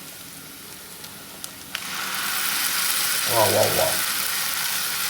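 A ground masala paste of onion, tomato, cumin, fennel and garlic sizzles and fries in a pan with a soft, steady crackle. A voice speaks briefly over it.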